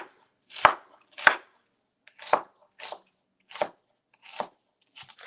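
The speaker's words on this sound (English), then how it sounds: "I'm just doing a chop enough that" A knife chops an onion on a board in about eight separate crisp cuts, each a sharp close knock with a brief crunch, spaced unevenly with short silences between them.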